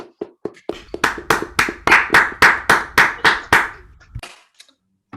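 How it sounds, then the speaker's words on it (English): Small audience claps for a mathematics speaker after his talk on 4-manifold invariants, a dozen or so distinct near claps in a loose rhythm that builds briefly and then fades out, with no voices. "Let's give him a round of applause."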